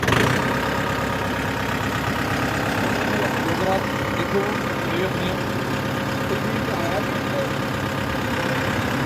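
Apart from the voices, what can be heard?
tractor engine running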